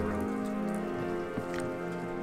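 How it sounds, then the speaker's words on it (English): Rain falling steadily in hillside Puerto Rico after Hurricane Maria, a continuous soft patter with a few brief clicks and drips, moderately quiet and with no talk. "The rain never stopped when we were there"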